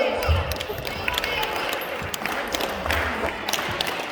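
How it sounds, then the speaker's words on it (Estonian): Applause at a school Christmas party prize giving: a room full of people clapping steadily, dense and continuous, with some cheering mixed in. "Aplaus!"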